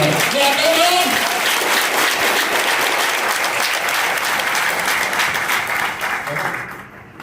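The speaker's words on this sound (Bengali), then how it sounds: "একটা জোর হাত তালি" An audience at a motivational speech event bursts into loud, sustained applause, a dense wash of many hands clapping nearby that fades out toward the end, with a voice briefly audible at the start.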